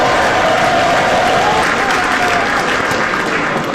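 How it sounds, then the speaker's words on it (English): Sustained, loud audience applause for a political speaker at a Washington event, steady dense clapping with some crowd noise throughout, no speech over it. "Thank you for that very generous applause."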